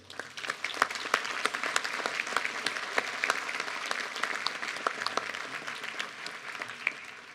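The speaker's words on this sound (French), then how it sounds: "Vous pouvez les applaudir." Steady applause from an audience at a town's New Year greetings ceremony, dense clapping with scattered sharper claps standing out, sustained throughout at moderate level.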